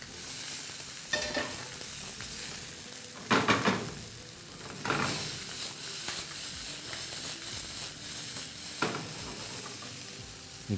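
Vegetables sizzle and fry in a hot pan with a steady hiss, while a utensil stirs and scrapes at intervals, sending up louder bursts of sizzling. Nobody speaks.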